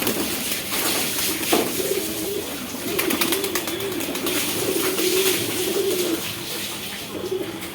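Pigeons coo in low, throaty repeated calls against a constant noisy background, with occasional fluttering and shuffling nearby.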